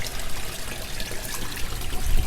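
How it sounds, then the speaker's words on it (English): Water drains steadily from a 17-gallon tote grow bed into a small backyard pond, a continuous close trickle and splash with no pauses, fairly loud and alone. "And we have it draining over there. Looks like it's doing a good job draining."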